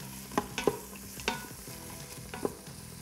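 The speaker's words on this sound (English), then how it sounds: "you're just gonna stir that around a little bit" Onion and celery being stirred as they cook in an Instant Pot, with a few sharp scraping clacks of the utensil against the pot over a faint, steady sizzle and no talking.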